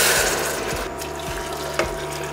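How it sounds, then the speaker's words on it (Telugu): Water splashes and gurgles as it is poured into a cooking pot for mint pulao, a close, continuous wash of liquid with a few soft knocks, no voices. "So please allow me to put this water."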